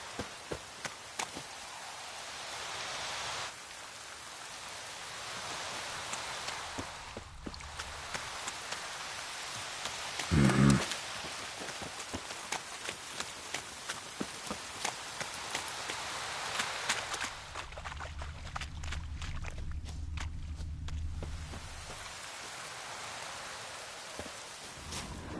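Rain falls steadily in the video game The Witcher 3: Wild Hunt, a soft continuous patter with scattered drop ticks and a brief louder burst partway through, no voices over it.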